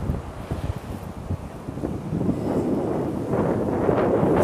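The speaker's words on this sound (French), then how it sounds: "Et là il y a un vent, j'en ai perdu ma perruque." Strong outdoor wind buffeting the microphone, a steady rough rumble with gusts that grows louder toward the end, with no voices.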